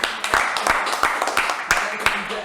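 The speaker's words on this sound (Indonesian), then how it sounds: "Beri tepuk dulu untuk apa?" A crowd claps in uneven sharp bursts at a gentleman ride event, with several loud strikes spread across a couple of seconds under a voice.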